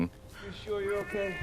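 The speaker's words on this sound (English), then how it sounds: "That was the cat." A cat meows in a movie, a short pitched cry heard right alongside a person speaking.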